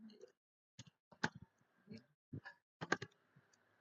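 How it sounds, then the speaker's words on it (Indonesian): Keystrokes on a computer keyboard while commands are entered, a sparse run of separate clicks and short taps with uneven pauses, close and clear against a quiet background. "eksekusi file snort dengan mengetik snort kemudian tekan enter"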